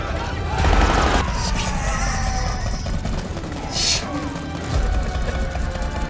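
Gunfire in a movie scene from a biopic comedy crackles in rapid bursts over music and other effects, while voices speak intermittently throughout.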